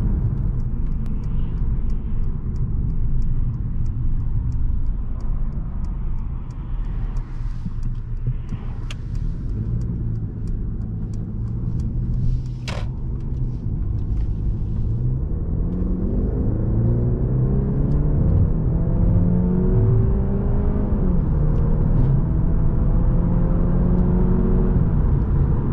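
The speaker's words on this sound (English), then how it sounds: "it feeds the additional power into the engine so that the boost can come in and push the car much further" A 2023 Mercedes-Benz C200 AMG Line with mild-hybrid boost adding 15 kW and 200 Nm gives a steady, close engine drone that climbs in pitch through the second half as the car accelerates, with no talking.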